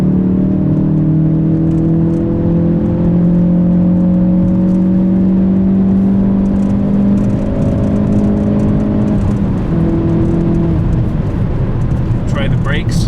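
A 2019 Hyundai Veloster N accelerating hard, heard from inside the cabin as a loud, continuous engine drone whose pitch climbs steadily through the gears, with a brief shift around the middle.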